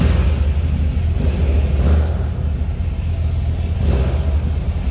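A 1968 Dodge Polara convertible engine runs close by, a loud, deep rumbling idle with a steady throb and slight rises in revs.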